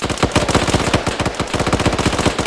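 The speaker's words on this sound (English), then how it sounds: "He's getting mag dumped by a PK" Long unbroken burst from a PK machine gun emptying its magazine in Arma 3, loud rapid shots in an even rhythm for the whole stretch, no voices over it.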